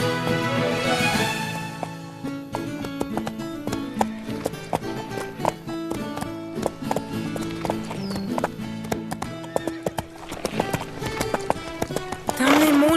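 Horse hooves clip-clopping as the horse is ridden in an animated horse series, a steady rhythmic run of hoof beats with a whinny near the end and talk over parts of it.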